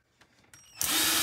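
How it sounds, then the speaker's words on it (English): A broken power drill patched together with hot glue and popsicle sticks spins up abruptly after a few small clicks and handling knocks, then whines loudly and steadily up close. "A drill that's held together by hot glue and popsicle sticks."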